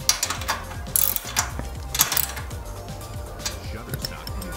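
Ratchet wrench tightening the axle bolts on a bicycle rear wheel with a Shimano Nexus coaster-brake hub: quick repeated ratchet clicks in short back-and-forth strokes, close and steady, with no speech.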